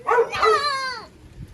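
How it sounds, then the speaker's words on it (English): A single dog gives a short, drawn-out bark that bends into a whine, close by, with faint background noise after. "That's the dog"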